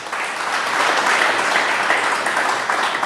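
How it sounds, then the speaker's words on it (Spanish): A church congregation applauds steadily after a sermon call, a dense, continuous wash of clapping that swells slightly and holds at an even level throughout. "Denle un aplauso a Jesús por eso."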